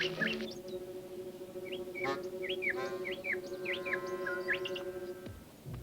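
A mockingbird calls outdoors in a series of bright, rising chirps and varied short phrases repeating over a steady background hum, fairly close and clear with no talking.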